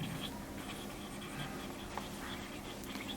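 Numbers written on a board during a class 6 math lesson, a faint, steady scratching of strokes over quiet classroom hiss with no speech.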